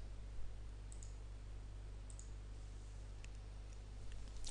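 A computer mouse clicks softly a few times, each click isolated and faint over a steady low electrical hum.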